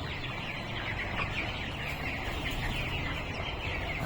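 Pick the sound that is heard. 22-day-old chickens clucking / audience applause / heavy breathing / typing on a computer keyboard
22-day-old chickens clucking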